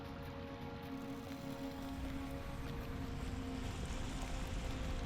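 Waterfalls echoing in a cave in the game LOTRO, a steady broad rushing roar with a low hum underneath, continuous and even throughout with no voices.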